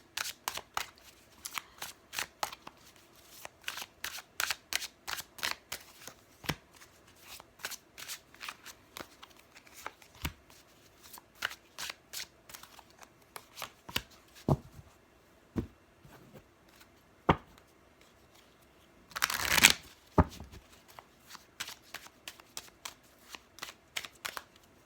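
Tarot cards being shuffled in a repeated run of crisp riffling flicks, close and fairly quiet, with a brief louder burst of handling partway through and no talking.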